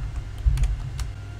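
A computer keyboard's WASD and arrow keys are pressed during game testing, giving a few separate close, crisp key clicks spaced irregularly over a faint background.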